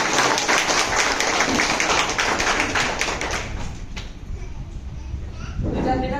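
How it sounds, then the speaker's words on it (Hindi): Applause from a seminar audience welcoming a speaker, a dense, loud wash of clapping that fills the first few seconds and then thins out, with voices heard over and after it. "एक बार जोरदार ताली से स्वागत कीजिएगा मिस्टर श्याम स्वामी सर का"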